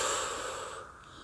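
A long, breathy exhalation released after a held breath during a sophrology relaxation exercise, close and soft, fading gradually over about a second.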